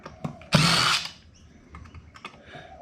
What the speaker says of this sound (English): I'll take off the screws because they're steel.